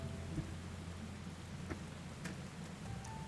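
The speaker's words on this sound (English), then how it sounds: "I would really like to get out of the rain." Steady rain falls throughout a Final Fantasy video game scene, a dense, even hiss of drops with faint rumbles beneath, continuous and at a fairly constant level with no voices.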